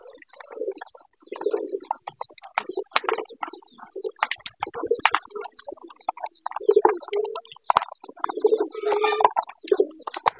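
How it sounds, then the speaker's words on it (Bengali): Pigeons being fed field corn coo in low, throaty bursts between scattered sharp pecking clicks, a steady busy flock close by on an overcast midday, with no voices. "দর্শক, কবুতর গুলা ভুট্টা দিতেছি।"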